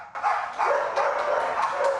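Several dogs at a dog daycare bark and yelp in overlapping bursts, a busy continuous chorus that sounds fairly close and loud, with no talking.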